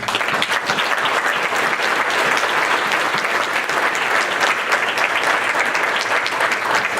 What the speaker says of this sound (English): And I really have to give her a round of applause.